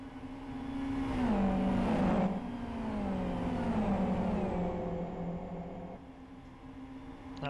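GT race cars in a sim racing league round at Blackwood Historic, the leaders lapping a backmarker, engines droning and shifting pitch as they pass close by, loud and sustained, fading toward the end.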